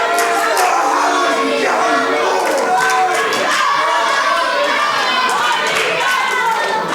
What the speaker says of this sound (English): this crowd absolutely letting Basham know what they think of him